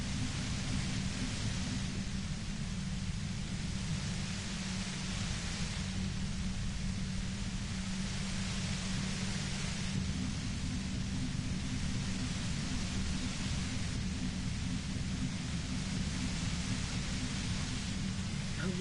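Radio white noise static in a video game, a steady, even hiss of broadband noise that continues for the whole stretch with slow swells in level and no voices.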